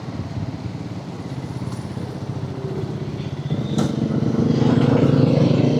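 A Triumph Scrambler 400XC motorcycle engine idles along at low rpm on the road, a steady close rumble that swells slightly louder toward the end.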